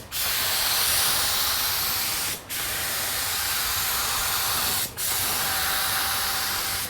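A malfunctioning paint spray gun, respraying a car, hisses steadily and loudly, broken by two brief dips where the spray cuts out for a split second.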